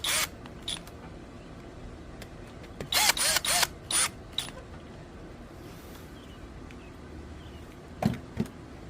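On a Yamaha Raptor 660 crankcase rebuild, T30 bolts are tightened with a ratcheting tool, giving several sharp clustered bursts of clicking separated by quieter pauses, with a few fainter clicks near the end.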